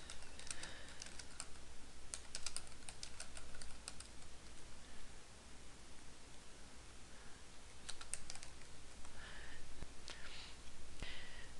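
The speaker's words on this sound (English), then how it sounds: "I'm going to go ahead and type" Fingers typing on a computer keyboard in a word processing document, a quiet run of rapid key clicks in uneven bursts with short pauses, close and soft.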